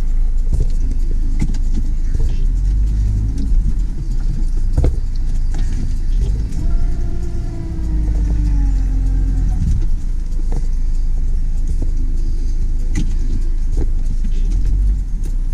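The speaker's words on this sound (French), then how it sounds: "une fois que ça a totalement colmaté la sculpture des pneus, les roues tournent dans le vide" A van's engine revs loudly as its wheels spin uselessly, tyre treads clogged with thick, greasy manure in Eastern Europe, a sustained close rumble rising and falling in pitch without talking.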